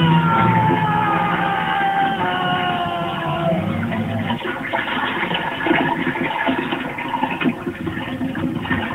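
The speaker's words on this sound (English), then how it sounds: "it's time to flush Puss in Boots down the toilet" Toilet flush in a cartoon-style scene, loud rushing and gurgling water with a descending whine, continuous for about nine seconds with no talk.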